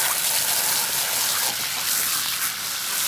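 Water pours steadily into a full bucket and spills over its rim during goat chores on a farm, a constant close rushing splash with no break and no talk.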